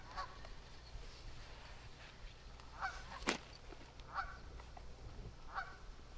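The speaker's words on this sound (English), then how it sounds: "Geese are chiming in" Geese honk in several short, distinct calls at a disc golf course during a women's pro tournament round, moderately distant over steady outdoor ambience, with one sharp louder transient midway.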